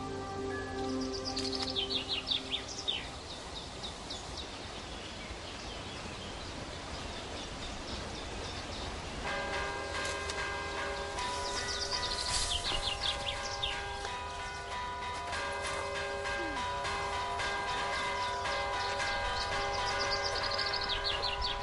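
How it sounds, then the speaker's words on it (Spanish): Church bells rung by hand by bell ringers at an annual bell-ringing contest in Villavante, Spain. Birdsong and outdoor ambience come first, then overlapping bell tones ring out steadily from about midway and continue to the end. "Villavante celebra todos los años un encuentro de campaneros que compiten en este arte antiguo de tocar las campanas."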